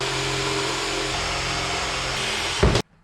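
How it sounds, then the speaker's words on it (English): A steady power drill whines continuously for nearly three seconds, loud and close, boring 12.5mm holes in a wood template, then a brief louder burst before it cuts off abruptly. "We can start drilling some holes."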